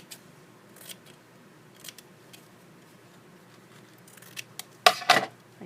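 Scissors cutting off part of a paper pattern for a 14.5 inch doll, a few scattered quiet snips followed by a louder close cluster of blade clicks near the end.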